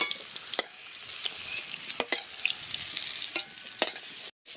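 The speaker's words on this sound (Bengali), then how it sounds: "ফুলকপি আর গাজরটা একসাথে ভেজে নিচ্ছি।" Steady sizzling of cauliflower and carrot frying together in a pan, with occasional sharp clinks of a spatula stirring, close and continuous, no talking.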